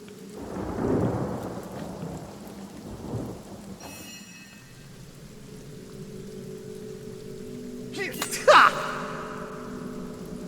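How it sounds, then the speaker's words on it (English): Spell-cast rain and thunder in the video game Divinity: Original Sin: a soft rumble of rain rises, then eases into a steady patter, with a sharp crack of thunder near the end. No one speaks. "Let's put some rain up here. Water, rain down."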